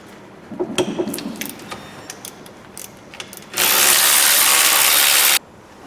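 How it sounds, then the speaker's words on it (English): A ratchet wrench works on the rear gearbox mounting bolts of a Ford Focus Mk2, with a few sharp metallic clicks first, then a loud, steady, fast ratchet buzz for about two seconds, close up, with no talking. "So next I want to be taking off this rear gearbox mounting just here. We've got 15mm bolt through here, two 13s and a 15 just there."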